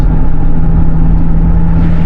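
A loud, continuous low engine rumble from a car, steady and close, with a deep droning hum throughout.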